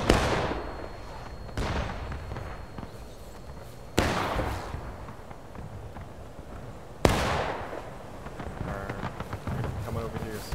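Musket volleys in the video game War of Rights crack out as three sharp, loud blasts with ringing decay, amid smaller scattered shots and voices talking in between.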